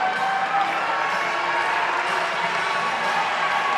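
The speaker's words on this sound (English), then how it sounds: "the Chipola crowd really feeling it. Yeah, cheering their guys on" Chipola fans cheering at a men's college basketball championship game, a steady dense roar of crowd noise filling the arena, sustained and even throughout with no single voice standing out.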